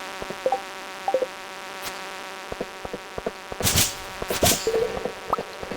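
A buzzing bug enemy in the video game Stardew Valley whines and drones close by, with scattered clicks and short game effects around it, and no talking.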